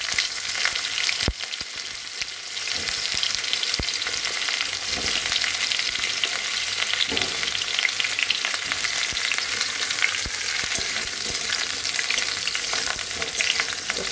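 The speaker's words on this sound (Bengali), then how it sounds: "ফুলকপি আর মাছটা ভাজা হোক" Cauliflower florets and fish fry in hot oil in a kadai, producing a loud, dense, unbroken sizzle up close, with a few sharp spatter pops and clinks and no speech.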